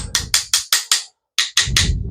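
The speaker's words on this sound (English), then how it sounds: "So I have a little brass hammer that we'll use because it will not damage this bearing." A small brass hammer taps an engine bearing flush during assembly of a John Deere M tractor engine: about eight sharp, evenly spaced metallic knocks, close and loud, with one brief pause partway through.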